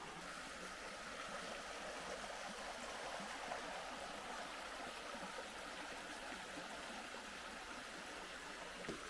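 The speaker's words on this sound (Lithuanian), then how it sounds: "Ir štai toks įspūdingai tikrai atrodantis gražiai upelis." A small stream runs beside a Lithuanian nature trail, its water making a steady, even rush of broadband noise for the whole stretch, close by with no talking.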